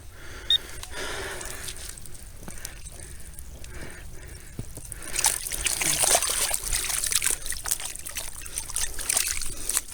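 Steady water trickling and splashing into a dug hole close by, a continuous liquid gurgle that grows a little fuller in the second half.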